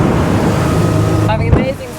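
Lomac Adrenalina 7 speedboat running offshore across open-water swell, its engine a steady loud drone with water rushing and slapping against the hull throughout, a brief hard splash near the end.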